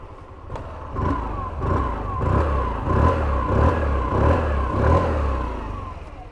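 A Hero Xoom 125 scooter engine fires up and settles into a steady, near idle, its low throb pulsing in a regular rhythm with a few throttle blips, loud and close with no talk over it.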